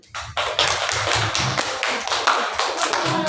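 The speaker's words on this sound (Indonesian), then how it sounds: "Tepuk tangan dulu." Students in a classroom break into applause, rapid overlapping claps starting suddenly and holding steady and loud, with low thumps mixed in, close to the listener.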